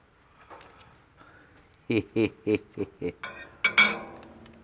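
A metal fork clinking against a dish while potatoes are being buttered, a quick series of about eight sharp bright clinks, close and fairly loud, after faint soft handling noises at the start.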